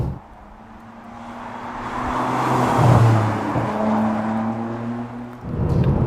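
A Ferrari 612 Scaglietti with a manual swap pulls from just above idle, a low steady engine drone that swells as revs climb, eases, then rises again, heard clearly with no talking.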